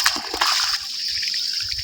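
Water flows from an improvised water source with a steady hissing gush and splash, close and fairly loud, over about two seconds with no speech.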